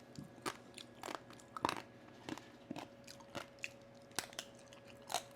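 Crispy roast pig lechon skin crackles as it is bitten and chewed up close, with sharp irregular crunches scattered through a few seconds and no talking.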